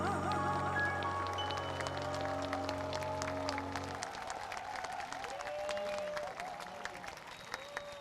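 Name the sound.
audience applause for a singer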